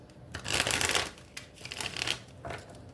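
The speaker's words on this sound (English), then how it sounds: "I'm going to do 3 shuffles." Tarot cards being shuffled by hand in a few rustling bursts, close and clear, with short pauses between riffles and no talking.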